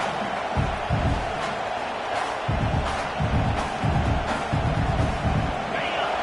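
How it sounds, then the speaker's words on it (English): A home crowd at a football game roars steadily, with repeated surges of cheering and noise rising and falling throughout. "this home crowd is fired up and ready to make a difference today"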